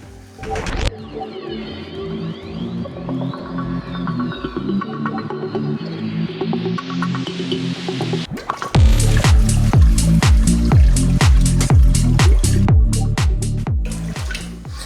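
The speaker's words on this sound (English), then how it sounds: "I fill up a 60 litre barrel and I pump that into the tank" Water pumped from a 60 litre barrel into a reef aquarium tank, a steady rushing, splashing flow that grows fuller and louder partway through and keeps running without a break.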